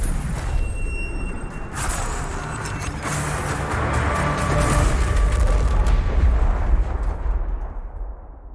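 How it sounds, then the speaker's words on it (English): Firecracker blasts in a Rainbow Six Siege story scene: a string of loud booms and crackling bursts over a heavy low rumble that swells and then fades out at the end, with no talk. "And they've got another firecracker."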